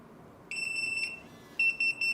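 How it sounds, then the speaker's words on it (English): A Retekess TD173 restaurant pager beeps loudly and close, first as one steady high electronic tone and then as a short burst of rapid repeated pulses. "Now you can see it has light, vibration and beep."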